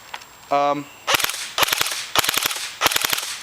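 Airsoft gun firing repeatedly during a barrel and hop-up check, a series of loud, sharp cracking shots in several quick bursts, preceded by a brief mechanical whir.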